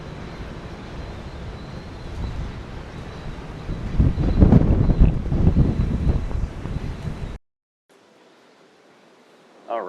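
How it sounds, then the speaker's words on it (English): Strong wind on the deck of the cruise ship Carnival Horizon buffets the microphone with loud rumbling gusts that peak midway, then cut out abruptly before a brief return. "Super windy."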